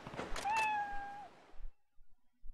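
A cat in the video game Ryu Ga Gotoku Ishin gives one clear, rising then level meow, close and fairly loud, followed by faint background game sounds.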